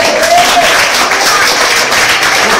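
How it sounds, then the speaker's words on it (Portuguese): A church congregation applauds during an apostle's sermon, a loud dense wash of clapping and crowd noise filling the whole stretch without a break. "Às vezes você pode aplaudir o Senhor por ele."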